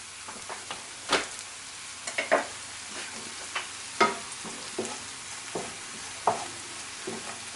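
Two tablespoons of flour cooking in grapeseed oil in a pot for a vegan pot pie sauce, with soft scattered sizzling and repeated spoon scrapes and stirring knocks close by, no talking.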